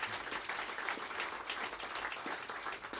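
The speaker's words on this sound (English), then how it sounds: "So let's give a round of applause to Bob for saving my life." Audience applause for a performer at a two-piano show: a continuous, fairly distant wash of clapping, even and unbroken from start to finish.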